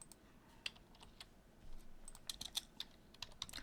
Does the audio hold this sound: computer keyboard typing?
yes